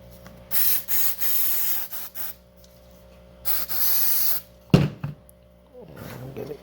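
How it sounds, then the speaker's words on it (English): Cleaner sprayed onto a Mercedes SLK 230 climate control circuit board with coffee spill damage, three bursts of steady hissing spray separated by pauses, followed by a thunk and light handling. "spray."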